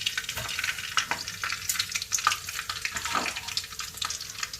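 Cumin and mustard seeds crackle and sizzle in hot oil for a tempering, a steady close frying hiss with small pops and a few stirring scrapes, no voices.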